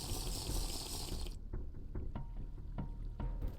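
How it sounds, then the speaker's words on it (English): Water is scooped up in the Minecraft modpack TerraFirmaGreg, a loud rushing pour that cuts off abruptly, followed by a quiet stretch with a few faint clicks and ticks. "Apparently I can pick up water."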